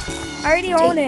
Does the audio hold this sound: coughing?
no